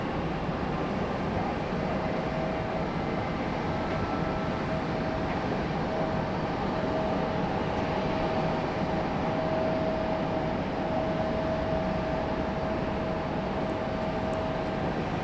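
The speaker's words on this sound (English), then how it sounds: "With the FedEx ATR there." A FedEx ATR turboprop at Raleigh-Durham International Airport gives off a steady, moderately distant engine drone with a faint tonal whine, continuous throughout.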